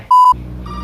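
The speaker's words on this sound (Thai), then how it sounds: "โทรศัพท์เข้าว่ะ" A phone tone in a Thai horror video game: one loud, steady electronic beep, then a fainter tone over a low hum, close and clean with no talk.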